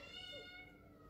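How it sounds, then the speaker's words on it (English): A kitten meows indoors, a single drawn-out cry close to the microphone over a steady background hum. "stop meowing, kitten."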